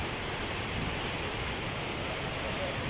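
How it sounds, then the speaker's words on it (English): Water cascading over rocks at a Brecon Beacons waterfall, a dense, unbroken hiss and rush that stays loud and even throughout. "So that's the water, the body of water, the force of nature, cascading, falling down, cascading through this rocky"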